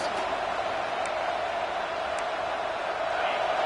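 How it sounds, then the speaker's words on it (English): Stadium crowd at a football game, a steady, dense roar of many voices filling the space throughout, with no distinct cheers or breaks. "This crowd trying to make life miserable for this offense."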